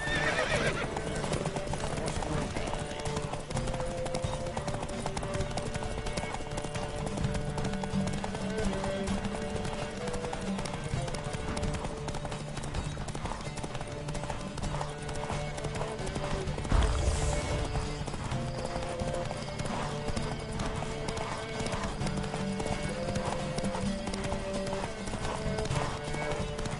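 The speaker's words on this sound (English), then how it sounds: "Don't spare the horse!" Horses gallop in a race in the video game The Witcher 3, with steady, continuous hoofbeats and occasional whinnies over a constant game soundscape for the whole stretch.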